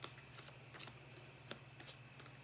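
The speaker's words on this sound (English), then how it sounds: "I'm just beginning to shuffle the deck" A deck of playing cards being shuffled close up, a quick run of soft riffling flicks and taps over a low steady hum, with no talking.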